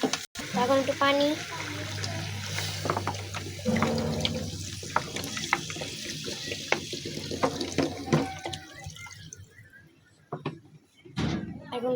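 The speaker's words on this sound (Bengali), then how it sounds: "এখন একটু পানি," Water poured into a pan of beef curry cooking with potato, bottle gourd and papaya, a steady running pour through the first half, followed by utensil clatter and scattered kitchen knocks.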